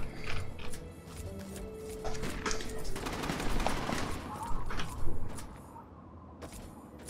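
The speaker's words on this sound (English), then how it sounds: "I hear gunfire." Video-game gunfire in Fallout New Vegas: bursts of rapid shots and clattering weapon mechanisms at moderate level, with a voice talking over parts of the action.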